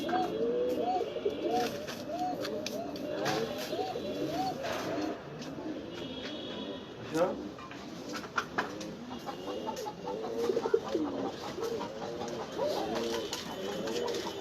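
Pigeons in a home loft coo continuously, several birds overlapping in soft, throaty rolling calls, with occasional sharp clicks and knocks from movement close by.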